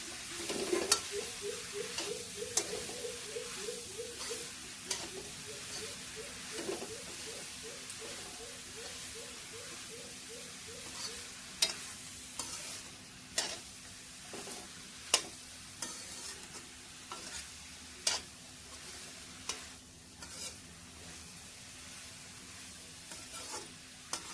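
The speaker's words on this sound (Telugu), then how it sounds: "నేను 2 బీరకాయలు తీసుకున్నాను, సన్నగా కట్ చేసుకొని వేయాలి." Thinly sliced ridge gourd fries in a pan for a tamarind curry, with a soft steady sizzle, intermittent scraping stirs and a short burst of bubbling early on, fairly quiet throughout.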